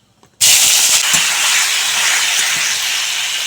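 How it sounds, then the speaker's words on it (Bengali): Chopped tomatoes land in hot oil in a kadai after bay leaf and five-spice tempering, setting off a sudden loud hissing sizzle that stays strong and steady, with no talking. "এখন দিয়ে দেব কেটে রাখা টমেটো"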